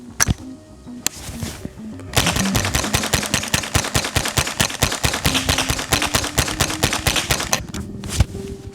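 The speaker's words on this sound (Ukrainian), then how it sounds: "Зробимо 25 пострілів в максимальному темпі в одну мішень і перевіримо, наскільки надійно буде працювати наш Вінчестер Wildcat" A Winchester Wildcat rimfire rifle fires a long rapid string of about 25 sharp cracks into a single target, after a couple of isolated shots, the reports evenly spaced and loud, close by.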